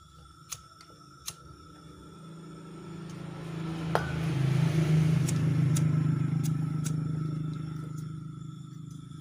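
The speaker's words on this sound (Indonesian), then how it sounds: "ada suara gas yang keluar tapi sepertinya kurang kurang kencang" Low hissing rush of LPG escaping from a welding torch run without oxygen, flow weak, swelling from faint to steady over several seconds with a few sharp clicks early on and near the middle.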